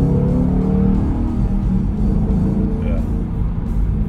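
A Fox Body Mustang with a muffler delete and resonators gives a deep, loud exhaust rumble with a steady, rough idle throb, continuous throughout and close by.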